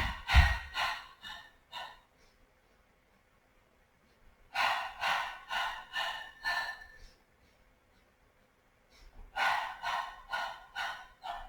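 Forceful rhythmic breathing during a full-body Pilates exercise, quick close sharp exhalations in bursts of about five, separated by short quiet pauses.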